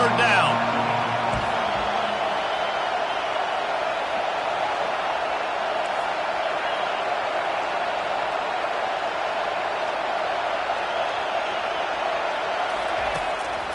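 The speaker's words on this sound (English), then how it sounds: "Decibels rising as the crowd gets behind this defense on 3rd down" Stadium crowd noise rising on third down in a college football video game, a dense continuous roar that holds steady throughout.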